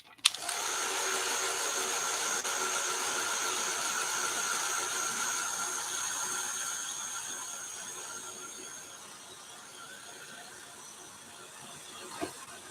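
A handheld hair dryer blows on a wet lawn sign, a steady whooshing whir that runs for several seconds and then eases in strength before a click at the end.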